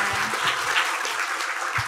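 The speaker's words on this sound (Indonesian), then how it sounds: "Beri tepuk teman-teman." Students applaud at a campus orientation event, a dense wash of clapping that runs steadily through the short stretch without a break.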